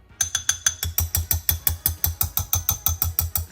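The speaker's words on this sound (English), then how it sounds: "I'm gonna use this little plunger whisk thing that BJ got for me." A plunger-style whisk pumps rhythmically in a bowl, making a rapid, even series of sharp clicking, ratchet-like strokes, close and fairly loud, about five per second.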